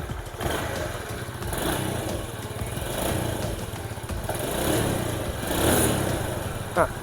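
A small motor scooter engine, a Spark Nano, sputters into life and runs with an uneven, rattly idle and light revving, steady and close throughout.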